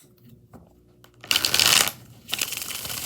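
Tarot cards being shuffled by hand: a few soft taps, then two crisp, loud riffling bursts, close up with no talking.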